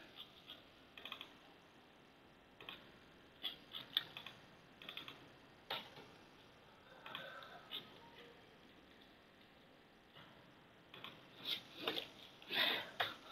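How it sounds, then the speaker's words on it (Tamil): A computer keyboard taps out a mathematical function in MS Word, with scattered light clicks in short irregular bursts, quiet and close, growing busier toward the end. "அதுக்காக நான் ஃபஸ்ட் வந்து ஃபங்க்ஷனை டைப் பண்ணிடுறேன்"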